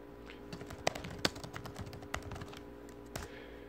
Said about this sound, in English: I know you see me typing